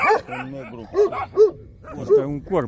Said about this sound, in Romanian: Asta e câinele de 6 ani.